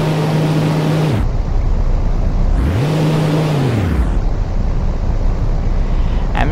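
A synthetic airplane engine effect built in Unity runs as a loud, steady drone whose pitch rises and falls with speed, with no speech over it.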